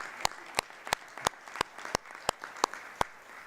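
Sparse, slow clapping from a small audience at a school district board meeting, honouring young scientists, with about a dozen distinct claps in an uneven rhythm, fairly faint in a quiet room.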